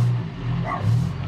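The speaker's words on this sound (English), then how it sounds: "And Teddy's barking" A dog gives a short bark or yelp, fairly close, over a low steady rumble.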